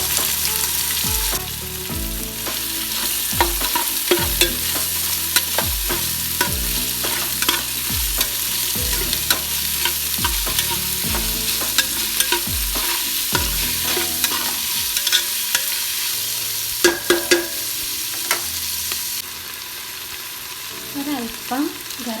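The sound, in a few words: cut onions frying and being stirred in a pan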